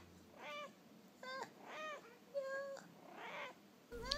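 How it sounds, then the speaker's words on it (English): A cat meows several times in a row, distinct drawn-out calls with short pauses between, close and fairly quiet, ending with a brief chirp. "he responds with a meow."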